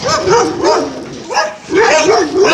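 Dog barking and yipping in short repeated bursts nearby outdoors, with someone talking over it.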